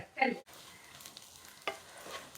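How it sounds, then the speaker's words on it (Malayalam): Grated coconut and curry leaves fry in hot oil for a Kerala roasted-coconut curry with drumstick and jackfruit seed, giving a loud opening burst of sizzle and stirring, then a softer steady crackle with a few scraping stirs. "ഇനി ഇത് നല്ലപോലെ ചുമക്കെ അങ്ങ് വറക്കാം. തേങ്ങയൊക്കെ ഇങ്ങനെ മൂത്തുകൊണ്ടിരിക്കുന്നുണ്ട്."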